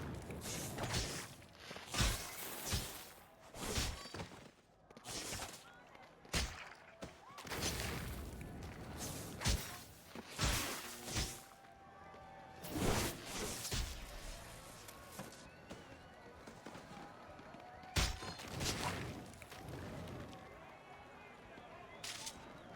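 Fireworks burst again and again during video game play, with irregular loud crackling blasts spread through the whole stretch, some clustered in quick runs, over a steady background.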